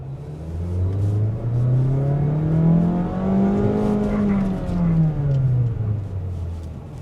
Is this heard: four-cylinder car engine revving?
yes